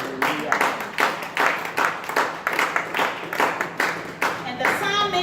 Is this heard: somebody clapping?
yes